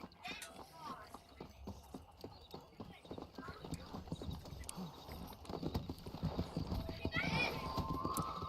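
A horse gallops in Red Dead Redemption, its hooves beating a steady, quick clip-clop that grows louder over the stretch, with a whinny near the end and voices talking throughout.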